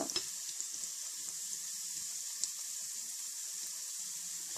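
A constant high sizzle of chiacchiere pastries frying in hot oil in a small pan, with faint clinks and small pops scattered through it.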